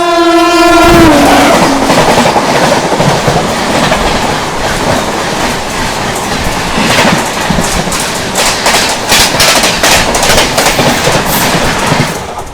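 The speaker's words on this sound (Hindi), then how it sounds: "अंडमान एक्सप्रेस ट्रेन भाग रही है दोस्तों बढ़िया रफ्तार में।" An Andaman Express passenger train (Shri Mata Vaishno Devi Katra to MGR Chennai Central) races past at speed. A loud horn blast opens it, then a steady, rushing roar and rhythmic wheel clatter carry on close by throughout.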